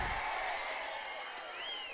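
A crowd at a political rally for Chandrababu Naidu breaks into sustained, fairly distant applause, a dense even wash of clapping with a brief whistle near the end.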